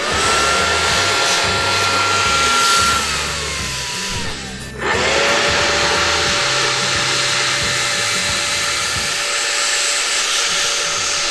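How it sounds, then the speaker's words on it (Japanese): A handheld blower roars loudly and steadily close by as it blasts Japanese honeybees off stacked box-style hive sections, its whine dipping briefly midway before resuming at full strength. "このブロワーで蜂を下に飛ばしたいと思います。"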